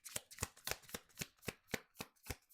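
Tarot cards being shuffled in a steady rhythm of about ten quick, crisp riffles, close up and fairly quiet, with no talking.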